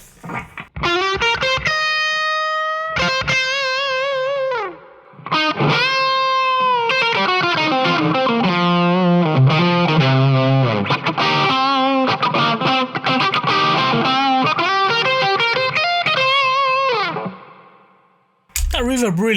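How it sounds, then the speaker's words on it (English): Electric guitar on a Line 6 Helix Fullerton setup with a Kinky Boost, Timmy overdrive and reverb stacked together, playing ringing chords and melodic runs for nearly twenty seconds, loud and close with a spacious reverb tail, ending in a brief pause. "That reverb really adds some life to it."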